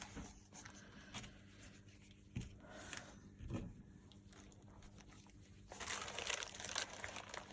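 Glassine paper crinkles and rustles as it is pulled through a vintage-style glassine bag journal, with soft, quiet irregular crackles and a few sharper crinkles, growing busier toward the end.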